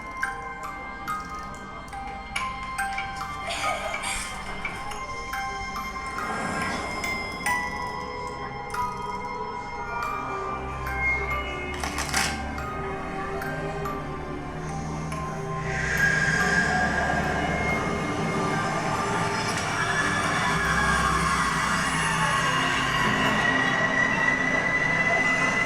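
A ride car on the Cursed Alton Manor dark ride at Alton Towers rumbles along its track with squeals and clatter, loud and close, and the roar swells toward the end.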